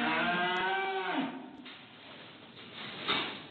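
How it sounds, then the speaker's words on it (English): A cow gives one close, low moo with a falling pitch, followed by a quiet stretch of faint background noise. "the cow burps a lot"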